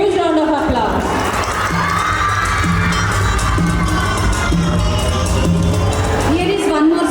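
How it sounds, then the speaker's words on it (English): Crowd at a school farewell celebration cheering, whooping and shouting continuously with a dense, loud roar of many voices and some clapping, sustained throughout. "Let's give a huge round of applause."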